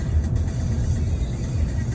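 Five-seater car engine pulling up a steep ghat road, a steady low rumble that holds constant for two seconds with no voices over it.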